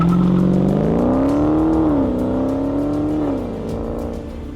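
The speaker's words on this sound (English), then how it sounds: "The deep rumble of a HEMI isn't just noise, it's an experience." A Dodge HEMI V8 rumbles and revs loudly and close, its deep throaty note climbing and falling in steady waves before easing into a lower idle-like drone.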